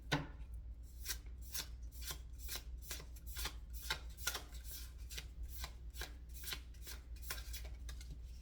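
Tarot cards being shuffled, a rapid series of crisp riffling bursts repeating at a steady rhythm, close and quiet, with no talk.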